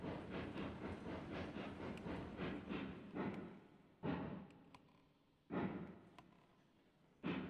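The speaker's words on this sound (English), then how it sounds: "I hear a train." A train in the railroad game Railroads Online runs with a steady rhythmic chugging pulse, then breaks into a few louder separate bursts, fairly close, with no voices.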